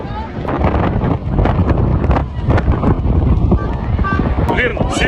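Strong wind buffets an outdoor gathering during a storm warning, a loud, continuous roar with gusty surges that presses against the microphone throughout, while voices carry underneath.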